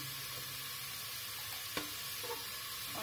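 Curry leaves and asafoetida sizzling with pink onions in hot oil for a South Indian tadka, a steady close hiss with one brief sharp crackle partway through and no talking.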